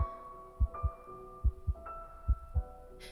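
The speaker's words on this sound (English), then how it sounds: "the heart beat on with a muffled sound." A muffled heartbeat sounds in a quiet, eerie setting: low, dull double thumps repeat at a steady slow rhythm under a faint sustained hum.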